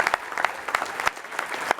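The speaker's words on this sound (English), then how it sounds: "Give yourselves a round of applause, please, guys." Applause from a training-event audience, a short burst of many hands clapping together at moderate loudness, with sharper individual claps standing out.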